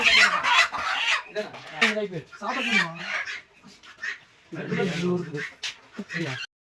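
Chickens cluck and squawk up close in agitated bursts as two are caught, with people talking over and between the calls.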